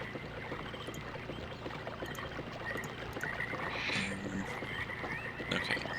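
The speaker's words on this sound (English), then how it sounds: "So I can hear the water." Water flowing in the Channelwood area of the video game Myst, a soft, steady trickling wash heard at low level with no talking over it.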